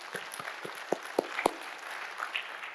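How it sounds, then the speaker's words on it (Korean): A church congregation claps in a quiet, sparse burst, a handful of sharp individual claps standing out over a faint murmur of scattered hand-clapping. "우리 하나님께 영광의 박수 드립니다."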